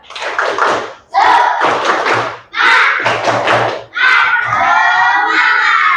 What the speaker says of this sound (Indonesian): coba semuanya tepuk semangat dulu biar kompak